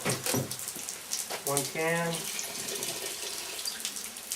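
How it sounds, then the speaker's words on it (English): Water from a tap runs into two tomato sauce cans in a home kitchen, a steady splashing stream with a brief rising gurgle as a can fills. Someone speaks a couple of words over it. "So I'm going to fill my 2 tomato sauce cans with water."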